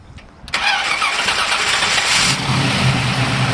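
A 1967 Chevrolet Camaro SS/RS tribute fires up close by: a short crank, then the V8 catches with a loud roar and settles into a lumpy, steady idle.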